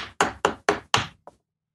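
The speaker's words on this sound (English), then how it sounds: "it sounds like someone's knocking at the door" Knocking on a door: five firm, evenly spaced raps close by, followed by a faint, quicker sixth tap, then silence.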